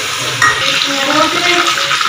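Masala with cumin sizzling and frying in a pan while being stirred for a chicken dish, a close, steady crackle with scraping stir strokes, no talk.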